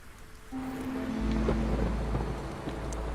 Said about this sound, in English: Let's speed up through the next storm.